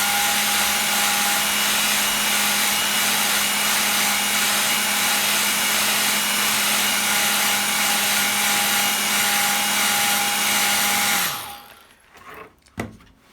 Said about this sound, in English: so I'm just going to give it a quick blast of the hairdryer